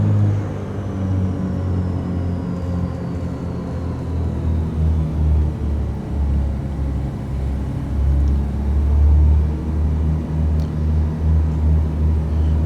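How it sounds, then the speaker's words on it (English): Steady, droning piston engine rumble of a 1980s Beechcraft Duke heard from the cockpit as the throttles are pulled back to 1500 RPM, a loud, even low hum with beating tones throughout. "Now let's bring the throttles back to 1500 RPMs."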